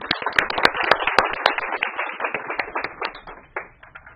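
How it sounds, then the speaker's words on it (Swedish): Applause from a morning research-breakfast audience, a small crowd of distinct sharp claps that is brisk at first, then thins and fades out over a few seconds. "Jag tycker vi ger Burak en stor,"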